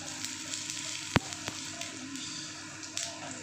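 Cumin seeds sizzling in hot oil for a potol paneer dish, a steady close frying hiss with a sharp clack or two of the pan, no talking.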